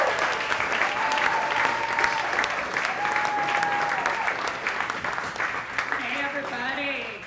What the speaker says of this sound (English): a huge round of applause for Carolyn Blaze